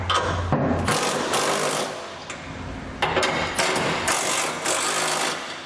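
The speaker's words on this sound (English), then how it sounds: "Now what we're going to do with these is tighten down each nut a little bit at a time" Nuts on the U-bolts of an under-bed gooseneck trailer hitch being tightened, likely with a power tool, giving a loud, continuous mechanical rattle and whir with brief breaks, close up and without talk.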